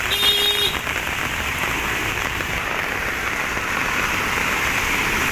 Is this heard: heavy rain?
yes